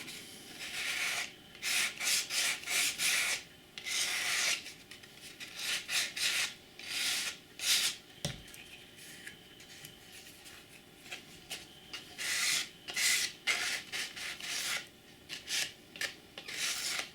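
A sanding block rubs along the sidewall of a Scalescenes card platform underpass kit in repeated short back-and-forth strokes, close and dry, with a few pauses between bursts.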